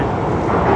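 RA903 train running toward Stratford, a steady close rumble of wheels and carriage noise that swells slightly toward the end, with no voices.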